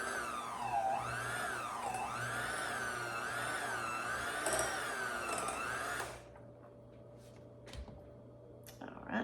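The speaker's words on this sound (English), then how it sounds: "We'll go ahead and mix this a little bit and beat the eggs up." An electric mixer beats eggs for pecan pie filling, its motor whirring steadily with a wavering pitch, then cutting off after about six seconds and leaving faint clinks in a quiet room.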